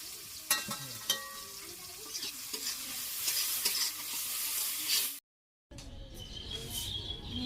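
Garlic frying in oil and being stirred, a bright steady sizzle with spoon scrapes, broken by a brief cut to silence before a quieter sizzle resumes, faint birdsong behind.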